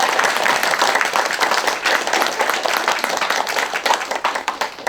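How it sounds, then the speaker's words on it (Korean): An audience at a Buddhist meditation centre's opening ceremony and poetry concert claps in a lively, uneven burst, many hands close by with individual claps audible, continuing throughout and tapering slightly near the end. "여러분들께서도 박수 치려면 똑바로 치게."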